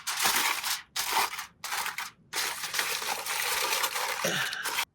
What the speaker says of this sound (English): Just wrap some foil around